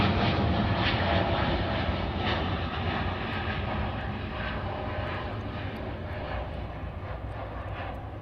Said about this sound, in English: Oh, we got 747 landing on the other side.